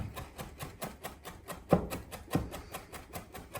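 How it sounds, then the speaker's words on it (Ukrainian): A sharp knife finely chopping food on a cutting board for pampushky and garlic oil, quick rhythmic taps repeating steadily, with two louder, heavier chops standing out, close and clear with no talk. "Тепер ще раз його гарно ось так дрібно подрібнюю."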